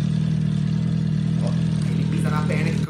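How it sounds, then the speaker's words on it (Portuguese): A motorcycle engine dubbed over a TikTok video runs loud and steady throughout, a continuous low rumble that rises slightly, with a voice faintly heard toward the end. "se você vai dublar o som de uma moto"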